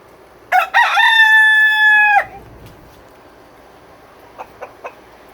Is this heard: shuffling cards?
no